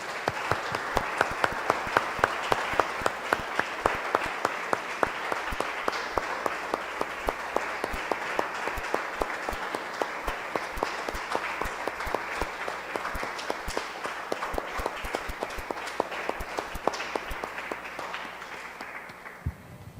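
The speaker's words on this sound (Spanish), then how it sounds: "Damos un aplauso," A church congregation claps together in a long, rhythmic round of applause, sharp beats sounding in unison over a softer bed of scattered clapping, slowly easing toward the end.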